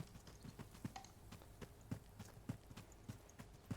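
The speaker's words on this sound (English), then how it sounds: "That is a horse." Horse hooves clip-clop in a steady walking rhythm in the video game Expeditions: Viking, faint and somewhat distant, against a low background hum.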